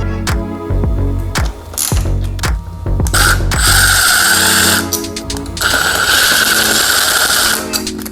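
A ratchet clicks rapidly in short runs while bolts are removed on a 2008-2016 Yamaha R6 motorcycle, followed by longer whirring power-tool bursts, loud and close, without speech.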